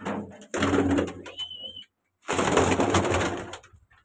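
High-flying pigeons coo in two loud, close bursts separated by a short pause while they are carried outside.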